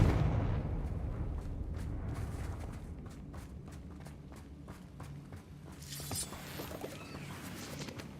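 A Confringo fire spell is cast in Hogwarts Legacy, a short fiery burst rising out of a steady run of footsteps and low rumbling game ambience, moderately loud and with no talk.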